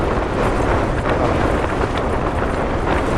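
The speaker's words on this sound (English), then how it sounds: "I measured the wind earlier, and it's pretty much constant 30-35 mile an hour wind with" Gale-force winter wind at 30-35 mph with stronger gusts roars steadily against a tent on Helvellyn, a dense, unbroken buffeting rush close to the microphone.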